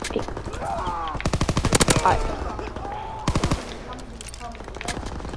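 A PPSh submachine gun in a video game fires two short, rapid bursts of close automatic shots, separated by a pause, with someone talking excitedly around them.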